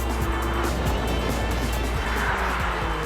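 A car driving a fast timed lap on a track, its engine a steady, loud, continuous roar with road and wind noise throughout, heard close with no talking.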